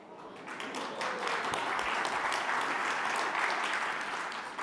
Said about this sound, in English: the applause hopefully is for them because they're the ones who did something tremendous